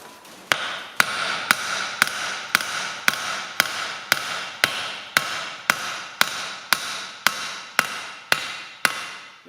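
Hammer blows on the splines of a Ferguson TE20 hydraulic lift cover to jar them loose, a steady series of about seventeen sharp metallic strikes at even intervals, loud and close with ringing decay between hits.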